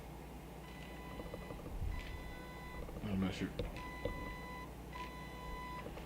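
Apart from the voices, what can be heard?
Neewer TT850 flash zoom feature adjusting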